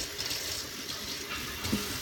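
Cold water running steadily from a tap, a soft continuous hiss and splash at low level with no other sounds.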